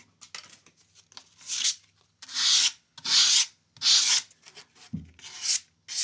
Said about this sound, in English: Need to sand that guy.